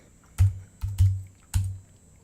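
Four short key presses on a computer keyboard enter a number, sharp and close in an otherwise quiet room, with two strokes bunched near the middle and one more after a brief pause.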